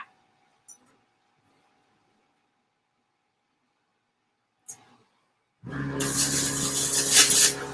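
Scuffing rusty 1/16-inch sheet metal cut from an old creep feeder: after near silence and a couple of small taps, a loud harsh abrasive rasping starts and continues for about two seconds.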